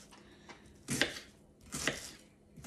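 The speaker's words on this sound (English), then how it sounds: "So I cut up some onion." Knife chopping onions on a board: two or three soft, separate chopping thuds, close and quiet, with pauses between them.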